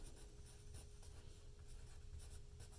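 Soft scratching of a pen or pencil writing by hand on paper, faint continuous strokes with small rhythmic bursts and no speech.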